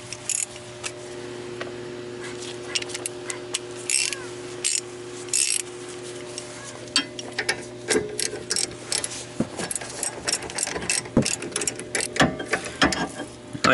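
Bursts of ratchet clicking as rear brake bolts are torqued down on a Chrysler 300, close and repeated in uneven runs over a low steady hum, with brief pauses between strokes.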